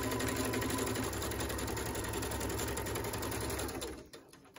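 A sewing machine back stitches a face mask, running in a steady loud whir of rapid mechanical clicks for about four seconds before stopping and going quiet.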